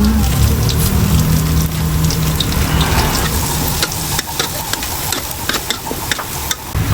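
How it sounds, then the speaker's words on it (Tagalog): Garlic sautéing in a pan, with a steady broadband sizzle and frying crackle throughout and scraping stir noises near and fairly loud, no talk. "Magigisa po tayo ng bawang."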